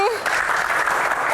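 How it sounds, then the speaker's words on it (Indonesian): A television studio audience, including university students, breaks into dense sustained applause during a Q&A panel show, while a voice speaks over the clapping. "Tepuk tangan juga untuk rekan-rekan mahasiswa yang hadir di studio kali ini."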